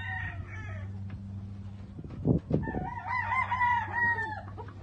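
A breeding gamecock rooster on a farm crows loudly and close, a long drawn-out call, with clucks and low background hum before and after.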